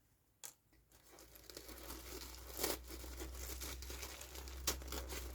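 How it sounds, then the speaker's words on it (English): Soft, close crinkling and rustling of thin blue tissue paper, with a few sharper crackles, quiet and continuous throughout. "So this time we've got some blue tissue paper."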